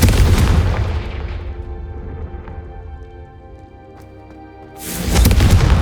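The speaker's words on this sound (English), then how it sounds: "a Confringo cast travels a bit farther than that of a spell like Incendio" Booming Confringo fire spell blasts in Hogwarts Legacy: a loud blast decays into a ringing tail, and a second sharp, loud burst hits near the end, with no talk.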